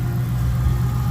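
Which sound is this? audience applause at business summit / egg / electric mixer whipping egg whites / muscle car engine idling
muscle car engine idling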